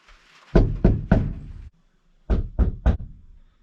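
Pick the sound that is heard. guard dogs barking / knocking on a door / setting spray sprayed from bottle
knocking on a door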